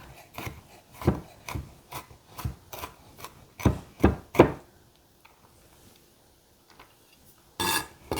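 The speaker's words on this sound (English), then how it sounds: "So I'm just chopping my garlic into small pieces." A knife chops garlic sharply on a cutting board in quick irregular strokes, then a quiet pause before a final short burst of chopping.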